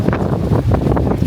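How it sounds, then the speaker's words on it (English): Strong gusts of wind batter the microphone at the summit of Tianmen Shan cableway, a loud, rumbling buffeting that surges and dips in several pulses, with no talking. "And it is windy up here. There's big gusts of wind."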